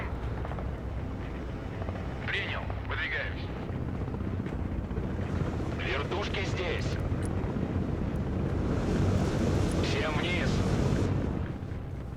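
Mi-28 attack helicopter in the military video game Broken Arrow, a continuous rotor and engine roar with rumbling battle noise and distant bursts underneath, steady throughout.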